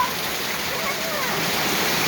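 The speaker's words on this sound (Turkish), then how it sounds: "Bak nasıl yağmur, nasıl geliyor lan bak." Heavy, steady rain roars close and loud in a downpour causing a flash flood, a dense continuous wash of water with no break.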